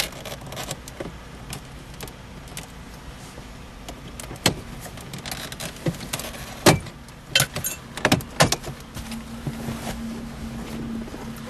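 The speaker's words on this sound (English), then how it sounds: "now the piece can be pulled free. You use a pry tool on the very end to get it started." Plastic trim being pried loose inside a Lincoln MKZ cabin, a series of sharp clicks and snaps scattered over faint rustling, growing busier toward the middle with a cluster of quick pops.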